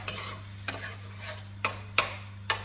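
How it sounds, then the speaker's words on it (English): A spoon scraping and mashing tomatoes in a pan, giving five or six sharp, close strokes at a slow uneven rhythm over a low steady hum, with no talk. "Give that a little stir."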